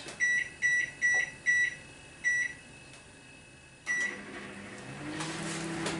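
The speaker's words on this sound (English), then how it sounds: "So, it's cooking in the microwave." A microwave oven cooking bacon in a microsafe bacon cooker gives five quick keypad beeps and one more, then the oven starts and a low hum carries on, close by with no talk.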